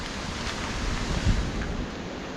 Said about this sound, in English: But this is a nice waterfall.